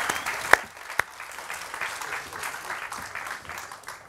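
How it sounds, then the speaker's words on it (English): An audience at a science-communication competition semi-final claps for a speaker, a steady medium-sized round of applause with two sharp loud claps standing out early, continuing evenly to the end without talk. "a torrent of principled applause"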